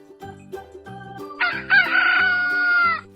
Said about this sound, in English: The rooster goes.